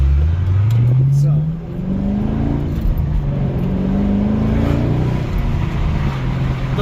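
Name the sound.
Chevrolet Camaro 2SS LS V8 engine while driving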